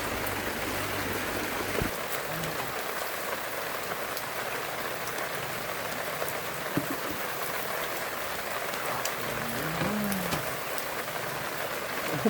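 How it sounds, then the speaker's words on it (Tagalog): Heavy rain pours steadily, a dense, constant hiss of drops on surfaces that lasts throughout, with a faint low sound briefly in the background. "Lakas yung ulan."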